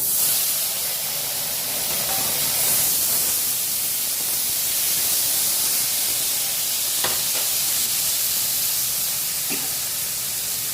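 Chopped tomatoes tossed into hot oil in a pan while cooking koi fish, a loud, steady close-up sizzle and hiss that carries on throughout with a couple of faint clicks.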